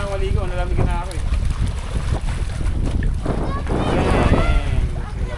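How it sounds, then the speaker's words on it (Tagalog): Strong wind buffets the microphone at an outdoor waterside fishing spot near a boat, a steady low roar running throughout, with people talking over it. "Lakas kasi yung hangin."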